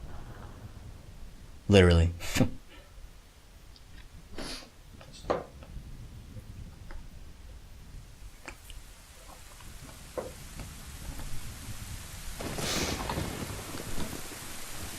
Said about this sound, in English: there's a storm on the horizon